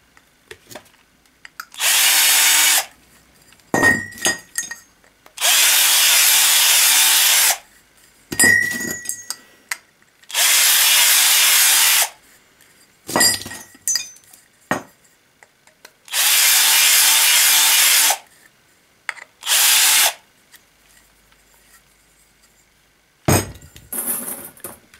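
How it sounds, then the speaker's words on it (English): A power drill removes burrs from aluminum for a folding bucksaw, running in four loud, sustained bursts of a few seconds each, separated by quiet gaps with clinks and handling noises. "so now I'm just removing some of the burrs"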